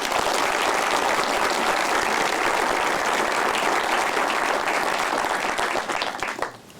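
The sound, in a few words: audience applause at a retirement ceremony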